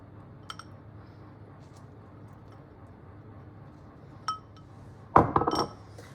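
Eggs and sugar for almond cream are mixed in a bowl: a few sparse clinks of utensil on the bowl, then a short, louder flurry of rapid scraping and clattering, with no talking.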